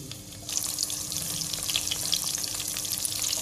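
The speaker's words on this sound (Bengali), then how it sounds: "কড়াইতে পরিবর্তে সরিষার তেল গরম করে নিচ্ছি এবার আমি বেগুন দিয়ে দিচ্ছি" Eggplant sizzling in hot oil, a loud crackling hiss that jumps up after a quiet start and stays steady, with small pops throughout.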